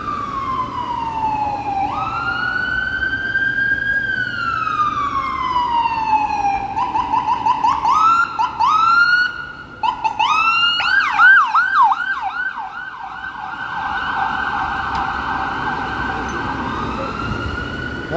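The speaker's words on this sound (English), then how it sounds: "And now here comes an emergency vehicle." An emergency vehicle siren passes along a city street, loud and near, wailing up and down in long sweeps, then switching to a faster yelp before settling back into a steady wail as traffic rumbles beneath.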